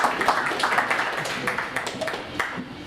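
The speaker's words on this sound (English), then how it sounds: "Yeah, round of applause again." Audience clapping fills a room at a music tech meetup in New York, a steady crowd applause of dense overlapping claps throughout, with some voices mixed underneath.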